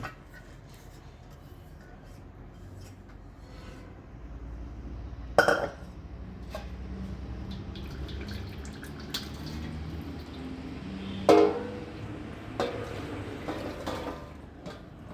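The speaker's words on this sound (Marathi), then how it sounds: "आता हे कटाच्या आमटीसाठी डाळ ओतून पाणी सगळं काढून" Water drains and drips steadily from a pot of lentils, with a couple of sharp metallic clanks partway through.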